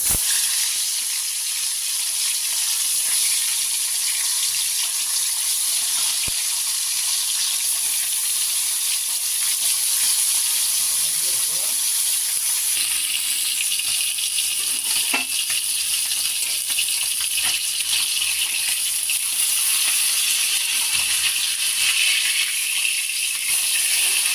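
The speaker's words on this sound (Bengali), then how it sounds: "এখন মাছগুলো ভেজে নেব।" Bhola fish sizzling steadily in hot oil in a wok, a dense, continuous crackling hiss with occasional small pops and stirring clinks, close and even throughout with no talking.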